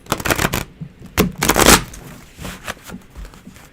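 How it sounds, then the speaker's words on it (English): A tarot card deck is shuffled by hand in several close bursts of riffling and flicking, separated by short pauses. "This is shuffle. Oh, and look, I actually can shuffle."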